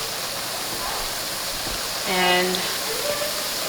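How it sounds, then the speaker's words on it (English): Water added to a pan of fresh green beans cooking for an oil-free Indian sael bhaji, a brief hissing splash rising under steady background noise, with a short spoken word nearby. "Now what I am gonna do is, to help this cook, I am gonna add a little bit of water."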